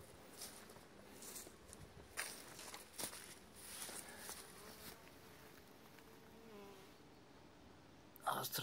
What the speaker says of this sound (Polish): Pszczoły ostro krążą.